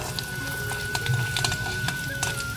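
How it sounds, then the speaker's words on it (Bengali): Whole cumin seeds, curry leaves and a broken dried chilli sizzle in hot oil, a close, steady crackling fry with faint popping spits and no talking. "তেল গরম হয়ে গেছে, ফোড়নের জন্য দিয়ে দিচ্ছি গোটা জিরে, কারি পাতা আর শুকনো লঙ্কা একটা কেটে"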